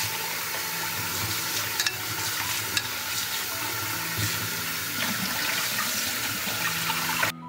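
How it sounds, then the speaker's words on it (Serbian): Potatoes rinsed under a steady stream of cold tap water, a continuous loud rushing splash that runs throughout with small clatters of the potatoes, and no talking. "nosim ga sada da ga isperem pod mlazom hladne vode"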